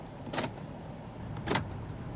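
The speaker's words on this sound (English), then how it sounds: "Central locking." Central locking on a 2019 Toyota Vellfire 3.5 VL actuating, two short mechanical clunks about a second apart, close and fairly crisp over a quiet cabin background.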